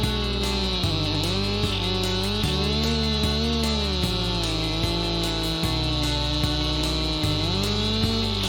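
A chainsaw makes a felling cut through a massive dead tree at a camp. The engine drones loud and continuous, its pitch wavering slightly as the chain bites into the wood.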